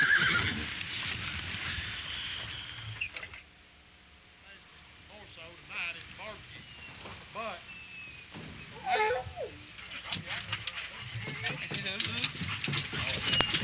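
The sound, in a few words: horses neighing and hooves clopping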